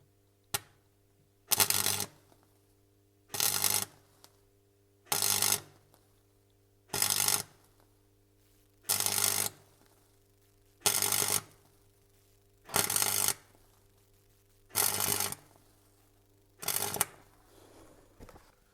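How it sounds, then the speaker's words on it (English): Welds are laid on brake system parts of a two-stroke Saab 96. Nine short, evenly spaced bursts of harsh crackling arc, each about a second long, are separated by quiet gaps with a faint steady hum, and no one speaks. "it's just to start laying some welds here."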